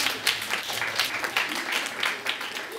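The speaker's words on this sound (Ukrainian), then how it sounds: "Аплодисменты!" Applause from a concert audience in Grodno, a dense, steady wash of many hands clapping that holds loud for a few seconds, with faint voices mixed in.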